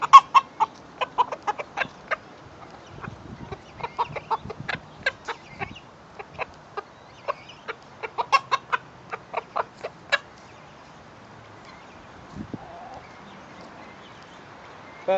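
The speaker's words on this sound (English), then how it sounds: "But we got a whole mess of roosters." Chickens and roosters cluck in a barn, a busy run of short, sharp calls overlapping for about ten seconds, then thinning out to a few scattered sounds near the end.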